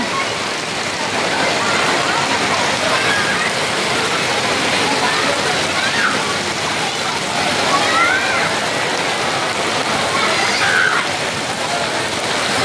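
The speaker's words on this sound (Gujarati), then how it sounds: "ખૂબ વરસાદ આવે છે." Heavy rain pours steadily near the Upper Datar hill shrine in Junagadh, a dense continuous hiss close by with no pauses.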